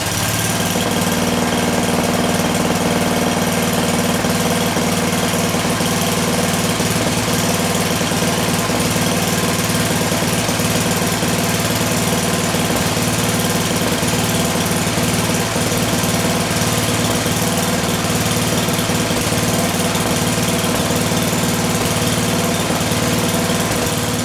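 A snow blower's electric-start engine runs steadily with its auger turning in two feet of snow, a loud, continuous, close engine drone with no pauses.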